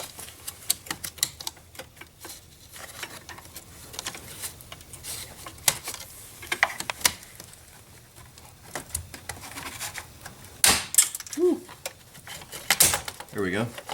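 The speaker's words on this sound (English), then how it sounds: "It's held onto the battery with like a clip, just like a tab that you have to pry away from the body of the battery." A plastic clip tab is pried off a Chevrolet Equinox main battery, giving scattered light clicks and taps with a couple of sharper snaps near the end, close by, and a voice at times.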